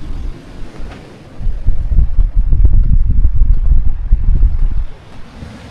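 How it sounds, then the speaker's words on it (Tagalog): Strong ocean waves and wind roar at a beach resort in Lobo, Batangas during a typhoon, a loud rumbling surge that builds and rolls steadily for several seconds before easing, with heavy wind buffeting the microphone. "Narinig niyo siguro nung lakas ng alon."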